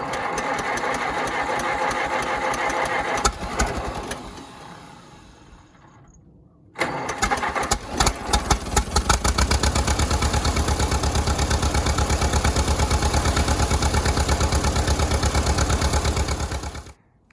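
An Allis Chalmers WD tractor engine cranks briefly, falls quiet for a moment, then catches and settles into a loud, steady, rapidly chugging idle that runs on until it cuts off at the end.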